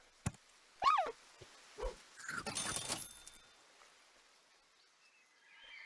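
Pug pet sound effect from the video game Super Auto Pets: a few short cartoonish dog yips and a rising-falling whine, followed by a brief noisy burst of game effects, then quiet.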